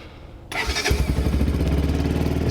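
A fuel-injected motorcycle, left sitting in the cold in Upper Mustang, catches after a brief crank, then settles into a loud, rough, rapid idle close by.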